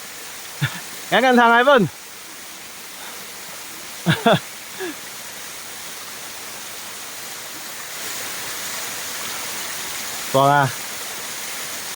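Longhua waterfall at Air Terjun Bukit Perdana in Batu Pahat: a steady, broad rush of falling water fills the whole stretch, broken by a few short bursts of excited voices and shouts.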